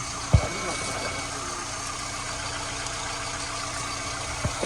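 A Skoda Octavia 1.6 MPI engine idles during catalyst warm-up with a steady, close mechanical hum, broken by a sharp knock near the start and another near the end.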